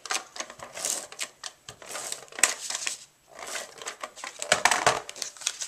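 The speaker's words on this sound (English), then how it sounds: "let me get that added to here with my tape gun" Tape gun dispensing and applying packing tape while a paintbrush treat box is assembled, giving continuous crinkly, screechy tearing and rasping noise in uneven surges, close and fairly loud.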